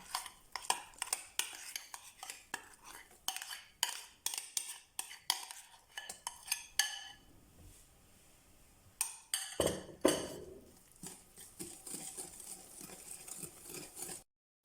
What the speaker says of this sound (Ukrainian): Перемішуємо ще раз сметану, вже, як бачимо, пішла реакція